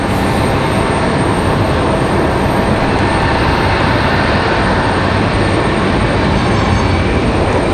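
A United Mesa Airlines E175 regional jet rumbles at Raleigh-Durham International Airport, a dense, constant roar of jet engine noise that holds at one level throughout with no voices.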